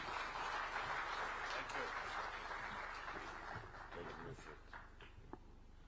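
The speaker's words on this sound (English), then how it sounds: "Let's welcome him with a clap." Moderate applause from an audience at a business chamber federation event welcoming a speaker, fairly faint clapping with people talking over it, tapering off toward the end.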